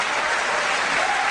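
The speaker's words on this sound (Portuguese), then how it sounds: "Aplauda Jesus por isso" Steady, dense applause from a church congregation at a Portuguese-language worship service, loud and continuous throughout with no pauses.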